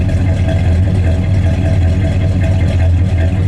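A 1970 Chrysler 300H Hurst V8 idles steadily up close, a deep, even rumble with a rhythmic lope and no voices over it.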